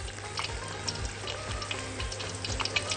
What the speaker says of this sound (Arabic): هنزل الثوم في الزيت وابتدي اديله تشويحه